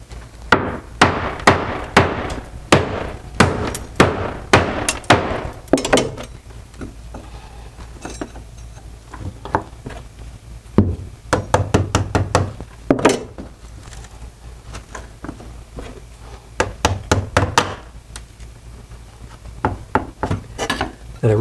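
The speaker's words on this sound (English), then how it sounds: "We're going to break a few more tiles away here so we can get in here, but we're not going to be careful because we know we're going to replace it." Hammer breaking ceramic backsplash tiles off a kitchen wall, sharp cracking blows in quick bursts with pauses between, close and loud, some strikes followed by clattering pieces.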